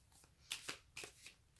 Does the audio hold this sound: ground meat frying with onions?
no